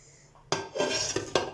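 Clattering of a pot lid and a large serving platter being handled while turning out maqluba, a few sharp metallic knocks and scrapes close by, with no talking.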